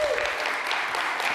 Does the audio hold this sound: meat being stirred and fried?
no